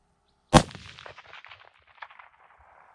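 A single sharp rifle shot from a Bergara B-14 HMR chambered in 300 PRC on a shooting range, one loud crack followed by a fading rumble and echo, with no talking.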